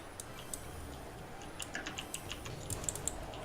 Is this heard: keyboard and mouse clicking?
yes